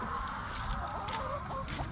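Backyard hens cluck softly and repeatedly at close range in a steady, busy chorus, with no talking.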